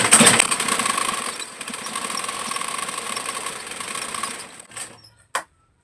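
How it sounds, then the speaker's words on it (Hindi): A sewing machine runs steadily through the last straight seam of a six-panel petticoat, a close continuous whir with a high whine for about four seconds before slowing to a stop with a few final clicks. "तो हम लगाते हैं सिलाई।"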